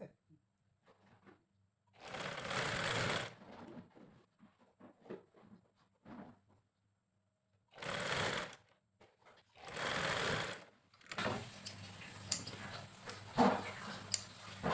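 Bursts of a sewing machine stitching a button placket on a panjabi, several separate runs of a few seconds each with quiet pauses between them, close and fairly loud.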